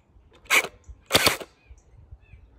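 A gel blaster fires into a chronograph in two short mechanical bursts about half a second apart. Each is a close, sharp rattling snap, and quiet background surrounds them.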